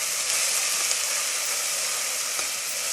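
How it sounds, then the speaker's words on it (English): A paste of chili, fresh ginger and fresh garlic sizzles in a hot pan, a close, constant crackling hiss with faint ticks as it is stirred, and no voices. "And just giving this a mix now, a nice sizzle."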